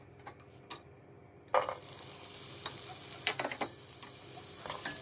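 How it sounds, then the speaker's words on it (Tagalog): Chopped onion dropped into hot oil, setting off a sudden loud sizzle after a quieter start, with scattered crackles and a few utensil taps continuing close by; no talking. "So, ilalagay na natin ang ating onion."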